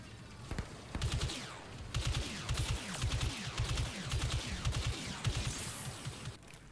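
Burst-fire blaster weapon in Star Wars Battlefront 2, rapid repeated shots in short clustered volleys, loud and continuous over a game backdrop, no talking.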